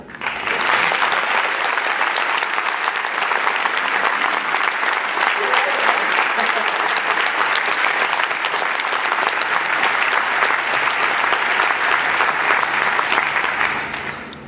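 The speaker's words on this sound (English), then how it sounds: "give a round of applause to the people at NVIDIA" Sustained applause from a large audience at a tech presentation, steady and loud throughout, fading slightly at the very end.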